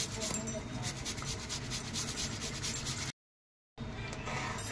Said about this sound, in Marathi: तर तुम्ही बघू शकता मी कशा प्रकारे बटाटा किसत आहे।